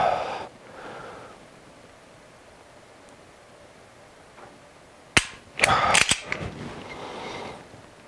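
A stock pistol trigger is dry fired five times, each a sharp mechanical click, with the clicks bunched close together near the end after a quiet stretch. The sound is near and loud, and no one speaks.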